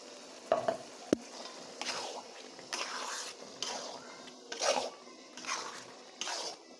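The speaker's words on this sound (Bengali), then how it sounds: "এখন আমি মসুরির ডালটা দিয়ে আর একটু ভুনিয়ে নেব" Jackfruit seeds frying with boiled masoor lentils in a pan: a steady close sizzle with repeated scraping stirs of a spatula and a couple of sharp knocks against the pan, and no voice over it.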